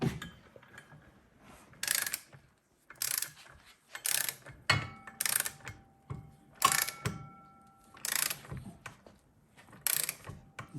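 A ratcheting torque wrench tightens a clutch bolt on a Ski-Doo 900 ACE snowmobile in repeated bursts, each a rapid train of metallic clicks separated by brief pauses, close and moderately quiet.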